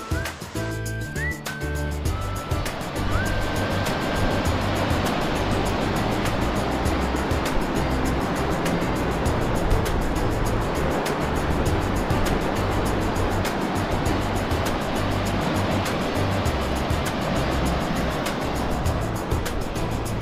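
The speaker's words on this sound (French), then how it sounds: "derrière il y a une cascade qui débite pas mal" A strong waterfall cascade pours heavily somewhere behind, a dense, loud, continuous rushing roar of falling water with no pauses.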